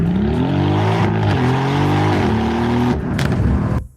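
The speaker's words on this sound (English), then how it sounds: "We've got a mic on the exhaust. I'm not going to do any talking, I'm going to let the Urus explain to you what she is." A Lamborghini Urus exhaust revs hard and loud, miked close on a mountain pass in South Africa, the engine note rising and falling continuously before cutting off at the end.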